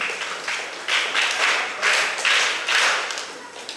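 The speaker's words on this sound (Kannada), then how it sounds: "ಚಪ್ಪಾಳೆ." Audience applause at a women's association first anniversary function, several bursts of clapping from a crowd, fairly close and steady, rising and falling without speech.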